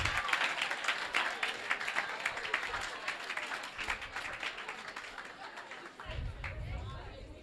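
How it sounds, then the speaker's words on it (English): Lively applause erupts in a biology lecture room, close and busy clapping mixed with some crowd murmur that gradually thins toward the end. "Clap for him."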